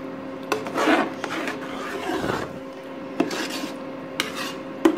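Pav bhaji vegetable mixture with dissolved tomatoes being stirred in a pan over low heat, a steady scraping and rubbing of the spoon against the pan with a few sharper clinks, close and alone.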